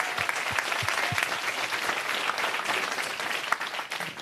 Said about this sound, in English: let's give them a big,